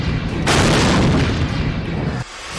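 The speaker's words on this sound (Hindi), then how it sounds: "आसमान में ही हुआ ड्रोन में विस्फोट" A drone explodes in the sky over Moscow, a loud, sustained boom that rumbles for nearly two seconds before cutting off sharply.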